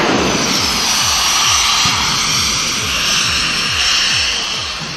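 Mad Ron's jet truck puts out a loud, continuous jet roar with a rapid train of low, repeating pulses running under it, steady and close from start to finish.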